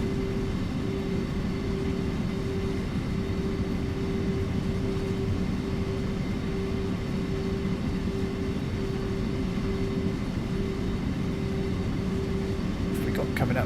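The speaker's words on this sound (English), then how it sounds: "looks like a freight train in the passing loop here" A freight train waits in a passing loop on the Kassel–Würzburg high-speed line in Train Sim World. It gives a steady, continuous rumble with a constant tonal hum throughout, heard from inside a cab.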